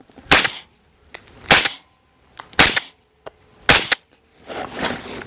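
A suppressed AR rifle built as a recce-style mountain rifle fires four rounds outdoors, each a sharp, loud crack separated by roughly a second, followed by a softer rustling tail.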